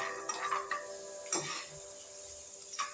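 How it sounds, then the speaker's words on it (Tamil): Chana dal frying in hot oil, giving a low, steady sizzle with a few light clinks of a spoon against the pan, close by and fairly quiet. "கடலப்பருப்பு பொரிஞ்சிருச்சு"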